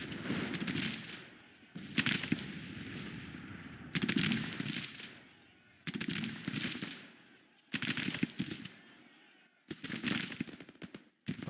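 Massed musket volleys from Civil War troops in the Grand Tactician strategy game, heard as crackling, rippling bursts of gunfire that repeat about every two seconds with short near-silent gaps between, fairly faint overall.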